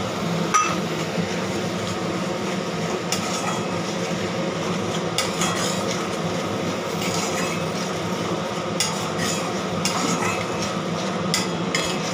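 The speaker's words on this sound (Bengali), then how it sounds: "এটা একটুখানি ভাজা হোক, একটু কষা হোক" Tomato paste frying in a pan for masala paneer, a steady close sizzle broken by clinks and knocks of a spoon stirring against the pan.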